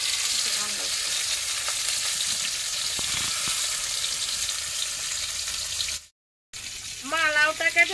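Fish sizzling as it fries in oil in a home kitchen pan, a steady hissing crackle that runs for several seconds, cuts out briefly, then resumes with some clatter and faint background voices.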